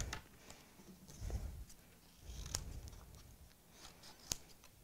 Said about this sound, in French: On va venir découper l'extérieur sur la ligne extérieure.